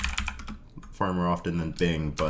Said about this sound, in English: sorry for the slow typing